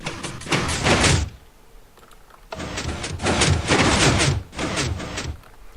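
A 3x3 redstone lamp door in Minecraft runs through its cycle in loud, broadband mechanical bursts: about a second of grinding, clattering activity, a short pause, then a longer run of overlapping clunks lasting several seconds, with no talk.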